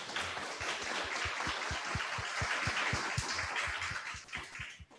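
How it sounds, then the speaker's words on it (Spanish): Steady applause from an audience at a solemn municipal council ceremony honoring award recipients, a dense, even wash of clapping with regular low thumps throughout that tapers off near the end. "démosle un fuerte aplauso a todos los homenajeados de esta noche"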